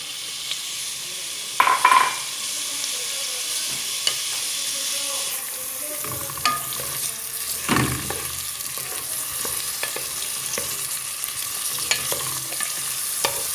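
Onion frying in butter and a little neutral oil in a pot for a Moroccan chicken tagine, a steady close sizzle with occasional stirring scrapes and clinks of a utensil against the pot.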